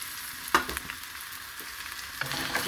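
Small onions frying in about a spoon and a half of coconut oil, with a steady soft sizzle and a few clicks of a spoon stirring them in the pan.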